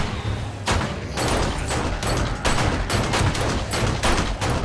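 Gunfire in the 7 Days to Die survival video game during a horde night, loud repeated close shots in irregular bursts with heavy thuds and impacts between them.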